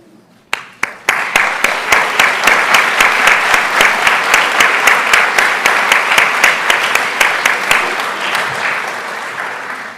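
A school board meeting audience applauds students, staff and community partners, with sharp close claps starting off, then a loud, steady rhythmic round of clapping that gradually eases toward the end.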